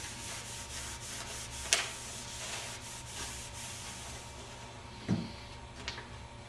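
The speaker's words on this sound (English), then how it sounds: "I can just take and rub over the design to kind of cool it down a little bit quicker" Steady rubbing across a heat transfer vinyl design pressed onto a shirt, a soft continuous scuffing close by with a couple of sharper taps, no voices.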